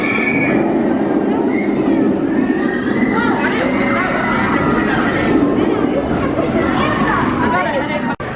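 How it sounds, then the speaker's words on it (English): The Mystery Mine roller coaster train at Dollywood in Pigeon Forge, Tennessee, on a jerky ride: a continuous loud rattling roar of wheels on track, with riders shouting and chattering throughout. "It was a pretty cool mine train ride, gotta admit."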